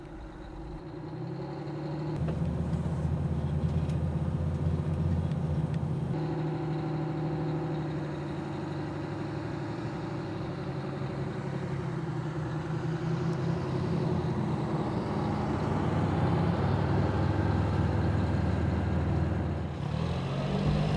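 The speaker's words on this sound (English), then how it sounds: "Here is a demonstration of driving the serpentine course in reverse gear." Emergency vehicle engine runs at a low, steady rumble while backing slowly through a serpentine course, the tone rising a little and falling as it maneuvers, with no talking.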